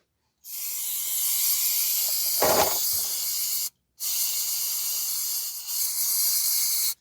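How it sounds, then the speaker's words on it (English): Brake cleaner sprays in two long hissing bursts while washing down parts after an oil change on a 2023 Mazda CX-5 2.5, loud and close, separated by a short pause, no talking. "you can use some brake cleaner to wash everything down"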